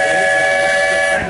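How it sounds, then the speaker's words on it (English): A Walt Disney World Railroad steam train whistle sounds at a park station, a loud, steady, sustained tone with layered pitches that holds for the whole moment before tapering slightly at the end. "Now, please wait until the train has come to a complete stop."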